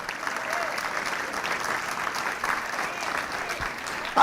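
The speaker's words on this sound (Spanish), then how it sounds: "Den un aplauso al Señor." A church congregation breaks into steady, dense applause that fills the room at an even level, with a brief louder burst right at the end.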